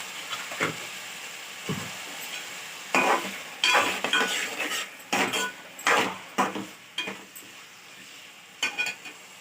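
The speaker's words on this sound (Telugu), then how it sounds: "చూడండి, మంచిగా వేగుతున్నాయి" Onions frying in oil in a pan for egg curry, a soft sizzle broken by loud, irregular scrapes and clinks of a spoon stirring against the metal, close and without speech.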